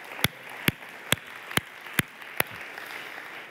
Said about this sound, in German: Gib mal Philipp einen großen Applaus hier vorne bei uns.